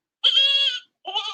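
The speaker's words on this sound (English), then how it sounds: "Did you hear a goat?" Goat bleats twice, a long, wavering call followed by a shorter second one after a brief pause, close and clear with no talk over them.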